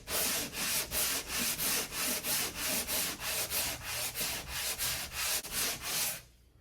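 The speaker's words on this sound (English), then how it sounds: "So we're gonna sand this off where it's smooth and get it ready to paint." Steady back-and-forth hand sanding of a patched drywall hole, about a dozen rhythmic rasping strokes at an even pace, close and loud, with no talking, ending abruptly.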